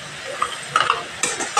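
Ginger, garlic and green chili paste hitting a hot pan for prawn malai curry, brief bursts of sizzle and spatula stirring with short clattering accents.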